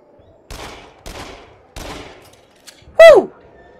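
Gunfire from the shooter game Until Dawn: Rush of Blood: three separate mid-loud bursts about half a second apart, then a brighter, louder sharp shot near the end, with no talking.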